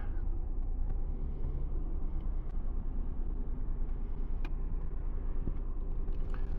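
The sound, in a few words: busy street traffic, cars passing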